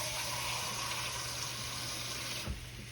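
Water pours into a cast iron skillet holding pork steak, a steady close rushing hiss that cuts off near the end.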